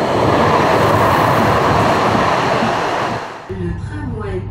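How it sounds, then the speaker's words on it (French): An RER commuter train passes behind residential gardens in the Yvelines, a loud, steady rumbling roar that fades out near the end, leaving quieter sounds in the background. "On se retrouve avec un RER qui passe au fond de nos jardins."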